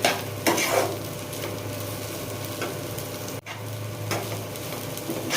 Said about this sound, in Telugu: ఈ విధంగా కలుపుకుంటూ ఉండాలి దొండకాయ ముక్కల్ని. ఇంకొంచెం వేగాలి దొండకాయ ముక్కలు.